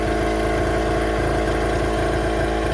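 A small square portable generator rated 0.7 kW runs steadily with a charger connected, its engine droning in a constant, rhythmic hum, close and loud, with no one speaking.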